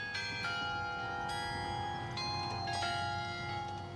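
Bells ring in the Mahaney Bell Tower in Jefferson, a series of overlapping struck tones with long ringing decay, heard at a moderate distance with a steady background hum and no talking.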